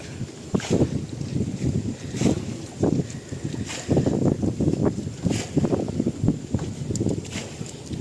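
Gusty wind on the Padma River buffets the microphone with repeated low rumbling bursts, steady and close throughout.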